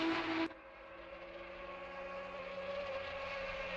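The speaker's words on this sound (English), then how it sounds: "these cars do sound good as they scream down through the chase" Porsche Cup race cars in a sim racing game scream down the Chase at Bathurst, heard as a steady, fairly faint high engine whine that holds after an abrupt drop in level.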